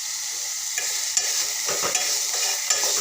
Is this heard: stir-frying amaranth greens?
yes